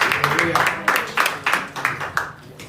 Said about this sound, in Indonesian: Mari, tepuk tangan yang bagus buat Tuhan Yesus.